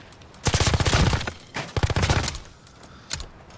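Glock pistol gunfire in a shooter video game comes in two fast, loud bursts of rapid shots, each running about a second, then one final isolated shot.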